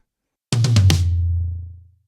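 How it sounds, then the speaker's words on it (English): A quick four-hit drum fill rolls across tom drums and lands on a final hit, followed by a low ringing decay. "it's just a little pattern between the toms to the snare"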